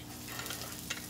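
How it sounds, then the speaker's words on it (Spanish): Chopped onion goes into red rice frying in a pan, with a steady close sizzle and soft stirring scrapes throughout. "Aquí le voy a agregar la mitad de una cebolla picada."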